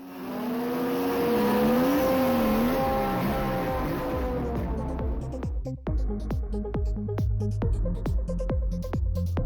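A supercharged Mazda RX-7 race car making over 600 horsepower revs loudly at a drag racing event, its rising and falling engine note giving way to a rapid series of sharp blips and pops.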